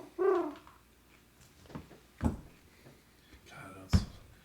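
A pet bird gives several soft, dove-like cooing calls spaced a second or so apart, near and fairly quiet.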